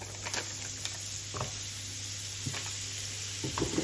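Butter sizzling in a hot frying pan on the stove, a soft steady fizz with faint pops and ticks, quiet and close, no talking.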